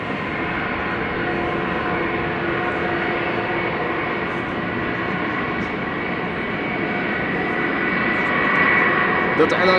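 Delta Airlines jet at Amsterdam Schiphol Airport, a steady broadband engine roar holding at a constant level throughout, swelling slightly near the end.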